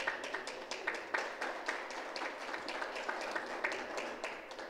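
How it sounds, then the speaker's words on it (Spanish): An audience at a dance event applauds, producing a steady patter of many hands clapping in a mid-sized hall, moderately loud and continuous without speech. "el aplauso, por favor, para él"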